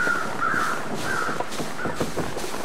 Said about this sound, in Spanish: Pajarito.